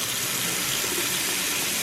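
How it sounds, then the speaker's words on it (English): A faucet runs and sputters with a steady, loud hiss of spraying water after the household supply was shut off during an iron filter replacement. "every time we run a faucet after turning off water, these things go spraying out all sorts of nastiness"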